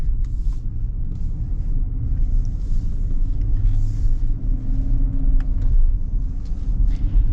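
The V8 engine of a 2024 SUV on the move makes a loud, continuous low rumble with steady road noise, heard from inside the cabin without a break.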